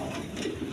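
Soft cooing from a pair of Khormun pigeons, low and muffled under a hazy background hum, brief and fairly faint.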